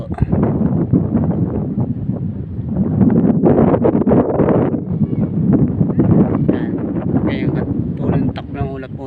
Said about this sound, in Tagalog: ibig sabihin mahangin po yan malakas